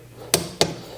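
Torque wrench clicking while tightening a spark plug on a Porsche 718 Cayman: three sharp, close metallic clicks spaced about a third of a second apart, against quiet background.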